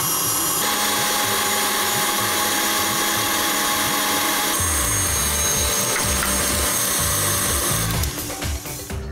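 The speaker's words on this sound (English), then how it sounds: "and don't stop whisking" Electric whisk beating egg whites with sugar into a pavlova meringue, a loud steady motor whir with scraping against the bowl, continuous throughout and shifting pitch partway through.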